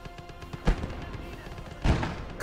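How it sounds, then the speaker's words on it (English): Artillery and mortar shells burst in a World War II hedgerow combat video game, two loud booming impacts standing out over a steady rumble of distant battle. "I'm just gonna start spreading some artillery around"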